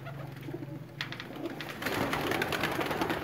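A sturdy Sialkoti pigeon coos in low repeated murmurs close by, while rustling and handling noise grow louder partway through.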